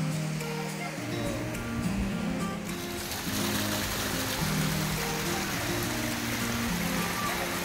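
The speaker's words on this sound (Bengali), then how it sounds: "উপর থেকে কত সুন্দর ঝর্ণা জলটা পড়ছে।" Water from Quekhola Falls pours down from above among big rocks and mountains, a steady broad rushing roar that fills the scene, with faint voices and a low tonal hum running underneath.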